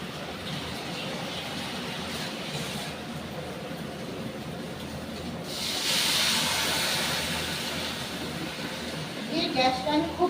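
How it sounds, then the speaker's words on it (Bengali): A little water poured into eggplant frying in a pan, a hissing steam burst rising over the background sizzle and then settling, close and fairly loud. "এবার আমি অল্প জল দিয়ে দেবো, যাতে বেগুনটা সিদ্ধ হয় ভালো মতো।"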